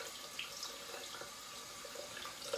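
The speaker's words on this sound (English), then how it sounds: "I rinse it under the tap" Water runs from a tap as a paint brush is rinsed under it, a quiet steady hiss and splash with faint trickling changes and no talking.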